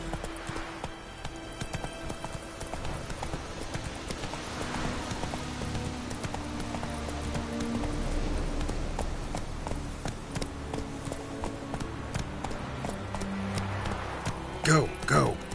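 A horse gallops in The Witcher 3: Wild Hunt, a continuous run of rapid hoofbeats under game music and a spoken voice urging it on, with a brief neigh-like burst near the end.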